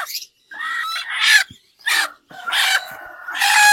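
Chickens, including a tiger-breed hen coming to lay eggs, give several loud, close clucking and squawking calls in short bursts separated by brief pauses.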